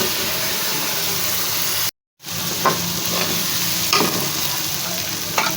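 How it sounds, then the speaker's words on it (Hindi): Mash dal frying in a pan, a loud continuous sizzle broken by a brief silent gap, with occasional stirring clinks. "दाल को भून लेंगे।"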